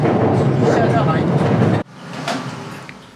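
Tokyo subway train running on the Marunouchi and Chiyoda line network, a loud steady rumble of wheels and motor that drops sharply partway through as the car quiets, with faint voices and announcement-like sound underneath.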